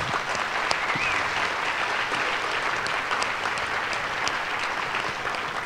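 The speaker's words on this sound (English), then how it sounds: "we could just give one more round of applause to the amazing team who brought all of us here today" Steady applause from an audience at a public event at Gettysburg, dense clapping that holds at an even level from start to finish with no voices over it.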